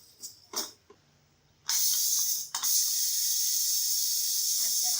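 A pressure cooker, cooking goat trotters, releases steam: a loud, steady hiss bursts out after a few light clicks and taps, dips briefly, then resumes and continues without pause.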